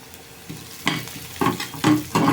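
Onion and carrot fry in a pan for a veg puff filling, with faint sizzling broken by several sharp scraping strokes of a spoon stirring at an uneven rhythm, close up and with no voices.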